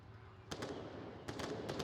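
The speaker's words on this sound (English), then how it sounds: "Gunshots from Gritter here underneath the bus." Short sharp gunshot cracks from the Onward VR shooter, fired from under a bus, come in two quick clusters of rapid shots, moderately distant and fairly faint against steady background noise.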